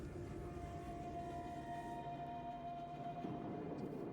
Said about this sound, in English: there goes the train on the way back